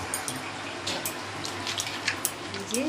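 Water is poured into a pan of chicken chilli, a steady close splashing and trickling with a few brighter drips, moderately loud and alone.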